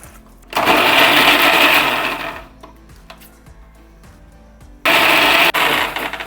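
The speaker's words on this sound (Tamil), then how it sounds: "இப்போ பார்க்கலாம் நல்லா கிரைண்ட் ஆயிடுச்சா இல்லையா." A kitchen mixer grinder whirs loudly while grinding a biryani masala paste for mutton donne biryani, running in two bursts separated by a quiet pause with small knocks, then starting again briefly.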